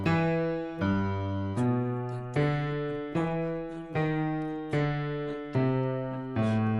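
A rolling boogie-woogie piano bass line, low notes struck in a steady, bouncing rhythm with bright harmonics ringing above, played alone.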